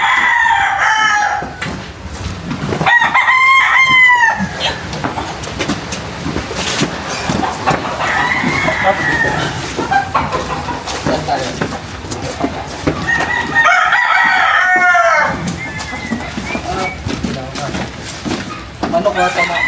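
A rooster crows from a distance outdoors near Lipa City, Batangas, a couple of drawn-out calls rising above rustling and people talking nearby.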